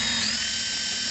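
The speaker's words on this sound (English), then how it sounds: "Now I'm going to drill half and half on this" A power drill spins as it bores a hole, giving off a steady high whine that holds even and close for about a second.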